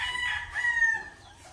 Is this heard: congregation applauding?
no